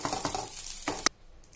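Rice for a Bombay-style cheese tawa pulao cooking on a hot griddle, with close sizzling and a few scraping stirs before the sound cuts off abruptly into quiet.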